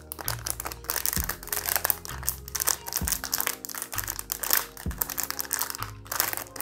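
A blind box packaging bag from a Hot Topic haul of kawaii and anime collectibles is handled and opened, giving close, continuous plastic crinkling and rustling with a few sharper crunches, over faint steady background music.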